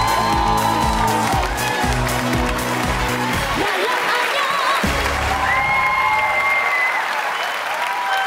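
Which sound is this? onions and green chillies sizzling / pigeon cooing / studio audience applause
studio audience applause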